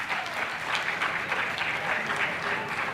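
A studio audience at a televised quarter-final of a Ghanaian secondary-school science and maths quiz gives a dense, steady wash of applause that lasts the whole stretch and sounds full and fairly close.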